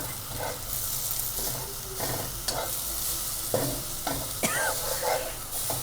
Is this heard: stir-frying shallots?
yes